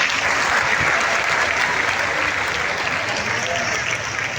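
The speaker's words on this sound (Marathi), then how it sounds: "सर्वांनी जोरात टाळ्या वाजवून त्यांचं स्वागत करायचं" A large crowd of devotees applauds loudly and continuously to welcome the Kedarnath Jagadguru at a grand reception in Sangli, a dense, even wall of clapping throughout.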